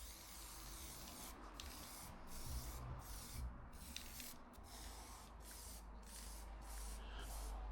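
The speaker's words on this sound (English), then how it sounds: "Now I'm just going to lacquer it." Lacquer mists onto wood in a couple of coats from a sprayer, a soft, steady hiss broken by short regular pauses, faint and close.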